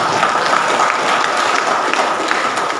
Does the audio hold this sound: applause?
yes